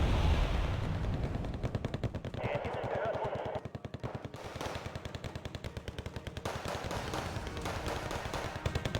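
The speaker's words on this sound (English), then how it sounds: "Where the fuck was that firing from?" Rapid machine-gun bursts and heavier artillery thumps from a Wargame: Red Dragon battle around a bridge with infantry carriers, a steady rattling barrage filling the whole stretch, with a voice talking faintly over it.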